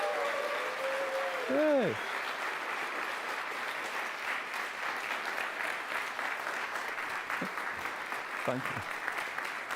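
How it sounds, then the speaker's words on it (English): Audience applause at the grand opening of an event: a steady, fairly loud wash of clapping throughout, with a few brief voices and short whistle-like sweeps rising above it. "Maybe we can give him, wonders, big applause, can we?"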